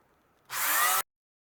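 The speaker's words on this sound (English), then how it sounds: "I have my little roto tool with a sanding disc, and we're just going to go at this" A small high-speed rotary tool with a sanding disc whines and grinds in a short, loud burst of about half a second while shaping a knife, then stops cleanly into silence.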